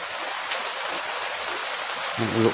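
Heavy rain pours down in a dense, steady hiss that fills the whole moment, with a voice briefly speaking near the end.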